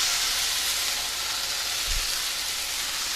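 Freshly diced tomatoes sizzling in a one-pan seafood dish, a steady loud broadband hiss with a brief low thump partway through and no voices.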